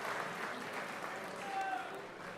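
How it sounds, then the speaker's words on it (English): An audience at a Greek Independence anniversary gala at a Hilton hotel gives a sustained round of applause, a dense, steady patter of clapping from a crowd indoors that lasts throughout. "Give yourselves a round of applause for coming to celebrate the Hellenic heritage, the Hellenic culture."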